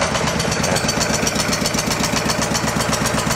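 Go-For digger petrol engine from an estate sale, misfiring on two of its cylinders while pulling hydraulic load, gives a loud, steady, close-up rough chugging throb with uneven knocking pulses and no voices over it.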